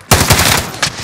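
Automatic gunfire in a Call of Duty Modern Warfare match: a dense, loud burst of rapid shots that fills the whole moment, with a second sharp volley near the end.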